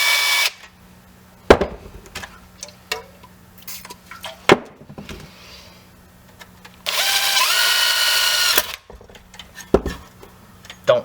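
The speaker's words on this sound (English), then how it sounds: "You're gonna want a 3/32 drill bit." A drill fitted with a 3/32 bit whines in a sustained burst for about two seconds, boring through a metal engine cover, amid scattered clanks and taps of metal tools.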